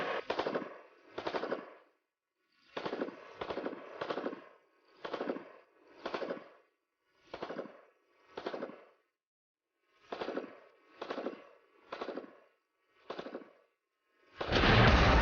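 AK-74 rifle firing in short bursts of rapid shots separated by brief pauses, loud and close, ending with a sustained blast of continuous fire.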